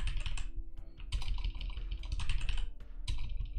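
Rapid keystrokes on a computer keyboard while entering a terminal command during server setup, a close, dense clatter of clicks lasting a few seconds with brief pauses, no voices.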